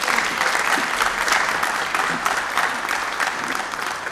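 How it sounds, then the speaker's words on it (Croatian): An audience at a Miss Universe Croatia pageant applauds warmly, a dense, sustained clatter of many hands clapping close and loud for the whole stretch, without speech. "Vi je pozdravite velikim pljeskom"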